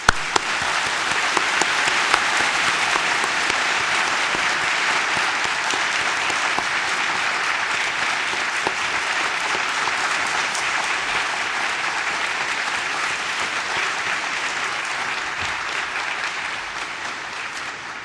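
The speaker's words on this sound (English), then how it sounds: "Please join me for a very warm round of applause." Sustained applause from an audience at an award ceremony during a conference plenary session, steady and full for the whole stretch with no voices over it.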